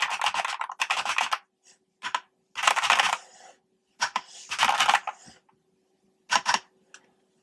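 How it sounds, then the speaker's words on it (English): Typing on a cheap RGB computer keyboard comes in quick, close bursts of clattering key presses separated by short pauses, with no talking. "It sounds really nice. It works really, really well. This keyboard looks really, really nice."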